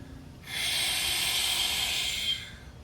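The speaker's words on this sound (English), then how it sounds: "Exhale all the way out." A long, steady exhale during a yoga breathing exercise, a close, loud, airy hiss that starts abruptly, holds evenly for about two seconds, and then fades, with no talking over it.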